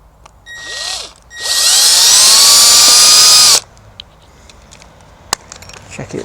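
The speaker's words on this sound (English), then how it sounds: "you can drill the 2 pilot holes" A power drill whirs in a short burst while drilling pilot holes for a gazebo side panel, then runs steadily for a couple of seconds before stopping; a few quiet clicks and knocks follow.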